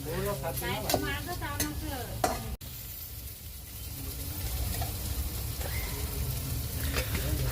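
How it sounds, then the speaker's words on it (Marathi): Onion roasts in oil in a pan with a continuous close sizzle and stirring scrapes, under a voice talking at first before the frying carries on alone. "जास्त भाजायचा आहे तो कांदा म्हणजे बराच त्याच्यात उशीर मध्ये चांगला तो असा भाजून घ्यायचा आहे पूर्णपणे कांदा"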